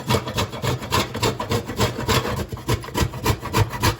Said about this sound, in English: I've got a grater, and this is the biggest size of the grater, and you just grate the coconut.